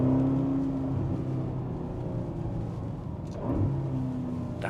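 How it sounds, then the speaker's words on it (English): A Ferrari GTC4Lusso T engine drones steadily from inside the cabin, its note shifting through downshifts, with a brief rise and blip near the end before settling back to a continuous hum. "Downshifts are great."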